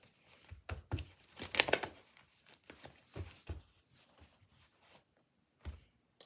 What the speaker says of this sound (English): Now I can start shuffling all that good stuff